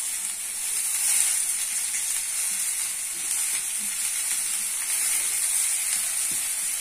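Potatoes fry in a pan with soybean oil, onion, turmeric and salt, giving a steady close hiss and soft sizzle with a few faint stirring clicks, unbroken and without talk.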